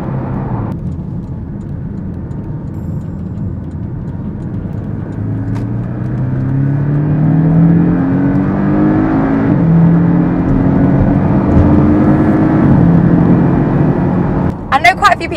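Porsche 718 Cayman S with a four-cylinder engine accelerating hard, its note rising steadily in pitch and growing louder as it pulls, heard from inside the car, with a brief clatter near the end.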